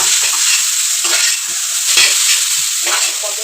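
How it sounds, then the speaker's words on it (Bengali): Chow mein stir-fried in a little oil, a loud, close sizzle punctuated by repeated scraping strokes of a spatula tossing the noodles in an uneven rhythm. "এখন ওই চাউমিন করছি অল্প তেলেই করছি"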